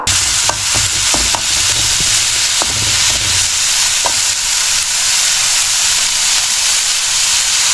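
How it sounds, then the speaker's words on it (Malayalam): Mustard seeds crackle in hot oil for Kerala-style cheera thoran, a spinach dish. A steady loud sizzle runs throughout, with a few sharp pops clustered near the start. "എണ്ണ ചൂടായി കഴിയുമ്പോൾ അതിനകത്തോട്ട് കടുക് ഇട്ടുക"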